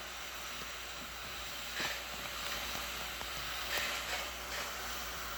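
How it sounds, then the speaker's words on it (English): A Salav vibrating steam mop runs over a hard floor, giving a steady faint hiss with soft low scrubbing and a few light knocks, with no talking. "steam is coming out from this water, from this mop head. Lots of steam, which is a good sign. I am going to mop the floor."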